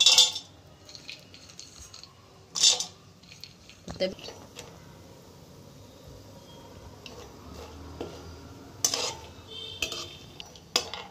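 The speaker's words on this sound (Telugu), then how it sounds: "కొంచెం వేడెక్కిన తర్వాత కొబ్బరి ముక్కలు, చిన్న కొబ్బరి ఎండు కొబ్బరి ముక్కలు వేయించుకోవాలండి" Dry coconut pieces frying in ghee while being stirred, a quiet sizzle with intermittent scraping and clinking of a utensil against the pan, heard under a person talking.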